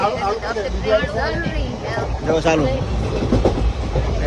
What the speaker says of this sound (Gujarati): ટ્રેન ઉપડી ગઈ